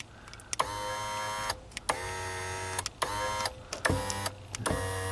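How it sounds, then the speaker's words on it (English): The automated steering column motor in an Acura MDX runs in a series of short electric whirs that start and stop abruptly, each a steady mechanical hum heard close and alone. "every time you get out, the steering column goes, you know, up and down"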